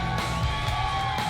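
Fans at a Rhodes Wrestling Association Fall Fury show roar with yells and cheers for Billy Gunn, a brief, continuous, loud wall of crowd noise.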